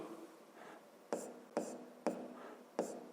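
A pen scratches a math answer onto paper in quiet, close strokes, about four short scribbles, with faint breathy room noise between them and no talking.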